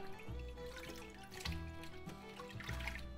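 Water dripping and trickling in a sink as kale plant roots are rinsed, a quiet, close splashing and dribbling with a few louder drops.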